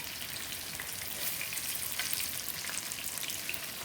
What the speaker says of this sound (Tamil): சிம்மில் வச்சு வேக வைக்கணும்,